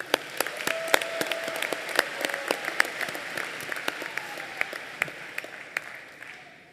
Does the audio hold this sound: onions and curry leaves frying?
no